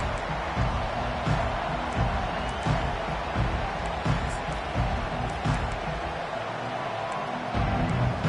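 A stadium crowd roars steadily throughout a South Carolina vs Miami game in College Football 25, a dense, far-off wash of cheering with commentary voices over it.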